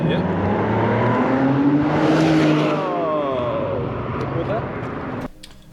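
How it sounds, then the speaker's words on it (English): A car that looks like a BMW speeds down the road, its engine loud and close with a rising then falling pitch as it passes, ending in a sudden cut. "I couldn't tell what car it was. It looked like a BMW"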